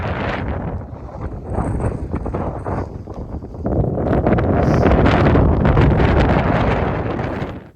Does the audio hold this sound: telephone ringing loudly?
no